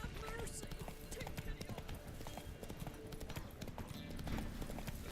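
Hooves of Roach the horse in The Witcher 3, a steady clip-clop of trotting over a busy in-game background, with a voice speaking over it.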